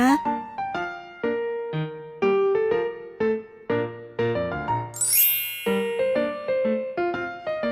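Bright notification bell chimes ring out in a quick melodic sequence of clear metallic dings, with a rising sparkling sweep midway, loud and close with no voices.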